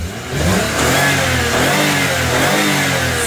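A Lexus car engine revs loudly close by, climbing from idle into a sustained, throaty roar with wavering pitch as the throttle is held and eased, and no talking.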